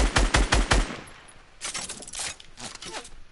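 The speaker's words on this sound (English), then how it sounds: "Oh, I'm getting shot." Gunfire in a video game: a quick burst of rapid automatic shots at first, then scattered, fainter shots and clatter over a busy game mix, with no clear speech.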